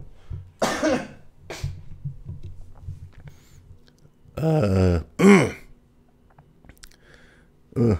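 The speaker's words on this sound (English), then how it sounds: "I got a cough again." Several harsh coughs break out one after another, loud and close, with a few softer throat sounds and quiet pauses between them.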